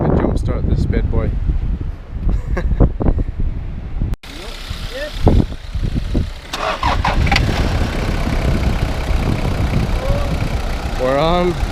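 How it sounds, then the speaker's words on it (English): A small car's engine cranks and catches after a jump start outdoors on a New Zealand coast, then settles into a steady idle while several people chat nearby over the running motor. "I'm gonna jump start this bad boy."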